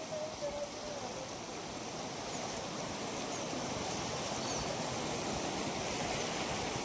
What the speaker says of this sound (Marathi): वाहते पाणी या ठिकाणी